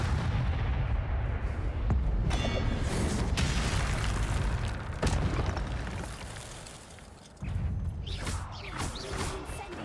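An Incendio fire spell is cast in the Hogwarts video game, with a dense run of loud booming blasts and crackling bursts that rumble on over several seconds, a fresh heavy hit near the end.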